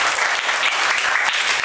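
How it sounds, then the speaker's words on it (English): A class of students claps for themselves, brisk continuous applause close up and fairly loud, a dense patter of hands with no voices over it. "Clap for yourselves."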